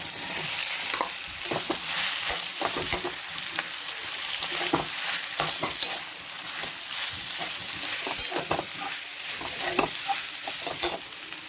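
Potatoes sautéing with turmeric and chili for vada pav, a steady sizzle with frequent spoon scrapes and stirs against the pan, close and continuous with no talking.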